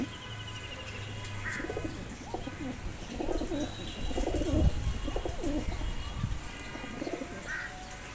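Giribaz pigeons cooing in a loft, several soft throaty coos repeating at irregular intervals, fairly close, with faint higher chirps and background noise.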